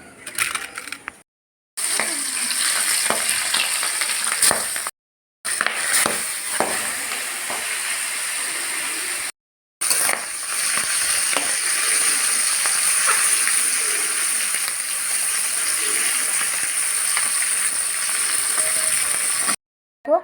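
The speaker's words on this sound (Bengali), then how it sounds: "ততক্ষণে মাছটা ভাজবো" Singhi fish rubbed with turmeric and salt sizzle in hot oil in a kadai, a steady bright hiss and crackle that runs continuously, broken by a few brief silent cuts.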